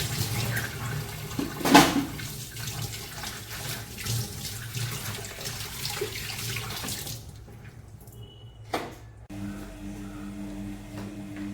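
A tap runs steadily into a sink while dishes are rinsed, with a sharp clatter early on before the water shuts off, leaving quiet handling noises.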